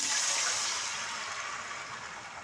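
Soaked rice poured into hot tempering in a cooking pot gives a brief rushing hiss and sizzle that fades over a couple of seconds, with no talking.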